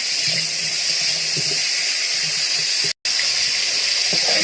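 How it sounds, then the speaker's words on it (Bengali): Fresh cauliflower and potato pieces lightly frying in hot oil in a kadai, cooked for a fish curry. A steady, close sizzling hiss runs throughout, broken by one very short dropout. "টাটকা কপি, এই জন্য আমি হালকা ভেজে নিচ্ছি"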